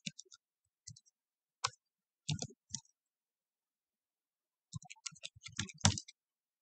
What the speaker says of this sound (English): So I'm typing here the email ID.